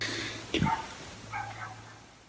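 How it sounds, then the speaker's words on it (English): Dogs at the neighbouring house bark a few times, one sharp bark standing out and others softer and more distant over a low background hum. "and dogs barking ominously from the next house."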